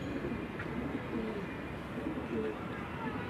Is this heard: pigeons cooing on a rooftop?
yes